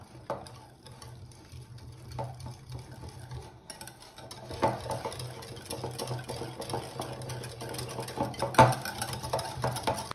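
Chocolate caramel craquelin mixture being stirred in a bowl, with soft intermittent scraping and mixing strokes over a faint steady hum, growing busier and louder in the second half.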